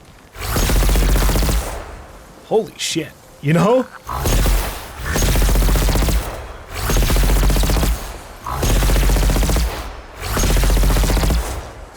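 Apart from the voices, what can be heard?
Spectre cannon firing in video game Horizon Forbidden West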